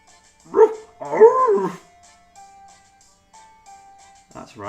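A dog barks a few times in the video game Inazuma Eleven GO: Light, close and loud, followed by a soft whimper and quiet game music, with a brief voice near the end.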